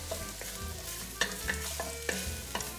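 Soffritto vegetables for lasagne sizzling in a pan, a close, moderate hiss with scattered pops and a few sharp stirring clicks over a low hum, no talking.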